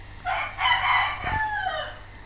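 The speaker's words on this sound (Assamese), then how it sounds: "আগফালে মুৰ্গী আৱাজ দি আছে, একদম চিঞৰ বাখৰ" A rooster crows once nearby, one long, strained call that rises and falls against a quiet background, in the morning.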